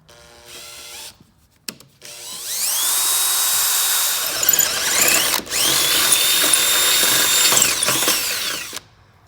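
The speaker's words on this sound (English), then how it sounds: "drill through the layer behind it with the 5/16 drill bit" A power drill with a 5/16 bit boring through two layers of steel, a loud high whine with grinding metal squeal, broken by a brief pause before drilling resumes and then stops.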